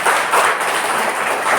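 A gathering at a Brahma Kumaris spiritual talk in Cooch Behar claps together, a brief burst of dense, even applause filling the room with no voices over it.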